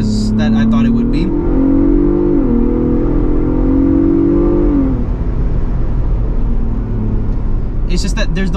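Ford Bronco Raptor engine accelerating, a loud close roar whose pitch climbs, dips briefly and climbs again before settling into a steady drone, with short bursts of talk at the start and end.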